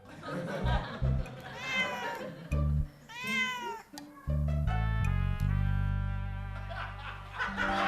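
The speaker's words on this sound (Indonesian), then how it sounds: "Ternyata kucing kan." A cat meows several times with rising, wavering cries, mixed with human voices and some laughter nearby.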